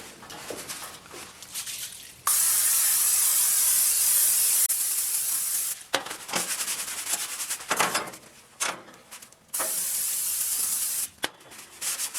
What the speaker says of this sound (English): I just get some of that olive oil cooking spray and spray them down before you light the grill.